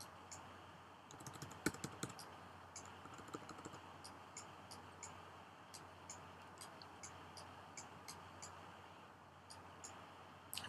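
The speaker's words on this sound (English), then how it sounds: "You can hear from my mouse clicking here" A computer mouse clicks in small, quick bursts while editing in Photoshop, crisp close ticks spaced irregularly at first and then falling into a steady sparse rhythm over quiet room hum.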